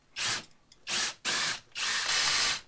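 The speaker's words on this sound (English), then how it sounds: "Drill a few holes, screw it in." Four short, loud bursts of a power drill drilling and screwing into a wall, each a few tenths of a second, with a ratcheting whir close by.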